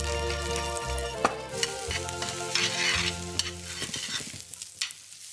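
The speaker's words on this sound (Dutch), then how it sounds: "Onze porcini zijn fijn aan bakken." Porcini mushrooms fry in a hot pan with a steady sizzle, broken by clinks and scrapes of stirring; no voices.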